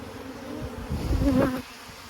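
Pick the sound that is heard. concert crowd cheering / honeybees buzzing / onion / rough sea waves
honeybees buzzing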